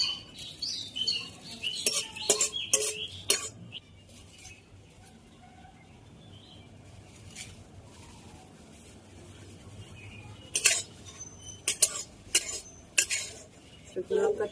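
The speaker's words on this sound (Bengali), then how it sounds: "এখানে আমি 4টে শুকনো লঙ্কা ভেজে নেব" Four dried red chillies fry in mustard oil in a wok, a quiet sizzle underneath sharp clinks and scrapes of a utensil against the pan that come in bursts at the start and again near the end.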